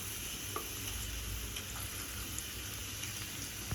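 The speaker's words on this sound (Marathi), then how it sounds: "कांदा मस्त परतू द्यायचा आहे आपल्याला" Sliced onion sautéing in a pan with curry leaves, a steady, fairly soft sizzle with faint crackles, continuous and alone with no voices.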